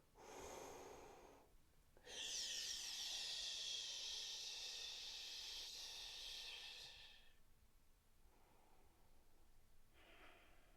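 During a women's deep-core exercise for abdominal diastasis recovery, a person breathes in through the nose, making long, close, hissing inhales. One extended breath dominates the middle, with fainter ones before and after.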